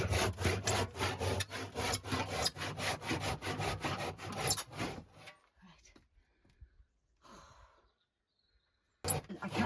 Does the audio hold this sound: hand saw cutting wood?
yes